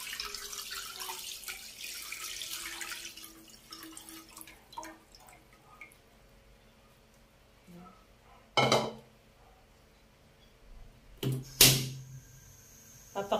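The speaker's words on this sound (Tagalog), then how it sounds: "at ilalagay na po natin yung ating gata" Three cups of coconut milk poured into a cooking pot for ube maja, a steady splashing pour over the first few seconds, then quiet, broken by two sharp metallic clanks of the pot near the end.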